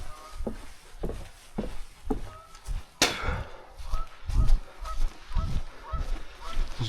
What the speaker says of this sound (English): Those geese are going crazy over there.